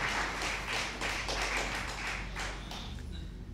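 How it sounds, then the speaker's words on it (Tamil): Audience clapping at a Tamil pattimandram debate stage event, steady rapid applause from a crowd lasting a few seconds, moderately distant and tapering off toward the end. "ஒரு கைத்தட்டி வைங்க"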